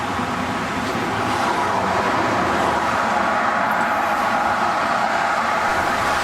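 Steady roar of motorway traffic rushing past a lay-by, a dense, continuous wash of road and tyre noise with no pauses, loud and close throughout.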